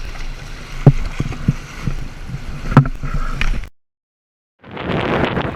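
A small sailboat named Scout tacks on the water during the Texas 200 coastal cruise, with water slapping and sloshing against the hull under wind rumble, then a brief silence and a burst of rushing wind noise.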